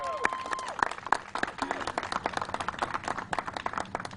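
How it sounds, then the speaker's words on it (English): Scattered clapping breaks out in a small crowd at a political press conference, loose individual claps rising and fading with a few voices mixed in. "can we get a round of applause"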